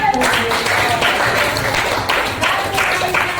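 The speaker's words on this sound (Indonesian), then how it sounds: "Tepuk tangan dulu untuk kita semua" A group in an Indonesian college class session applauds together, a loud, dense wash of clapping hands filling the whole moment, close and continuous with faint voices mixed in.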